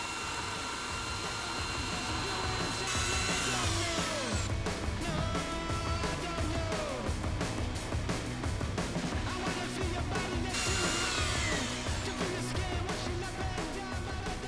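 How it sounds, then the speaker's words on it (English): Timber latte poles having their ends cut off with a power tool outdoors at a solo container home build, a steady loud whining drone running throughout with two sharper bursts of cutting. "So let's cut off all the ends of these latte poles"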